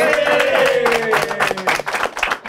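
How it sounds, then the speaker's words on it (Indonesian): Clapping from a small audience during a podcast recording, a scattered patter of hands under a trailing voice that fades as the claps grow irregular. "tepuk tangan untuk Somasi Community"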